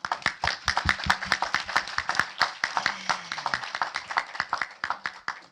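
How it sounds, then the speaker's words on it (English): Applause at a WTO high-level dialogue in Lima, sounding like a small group clapping close by, with distinct, uneven individual hand claps rather than a dense roar. "I really give you a big applause from here"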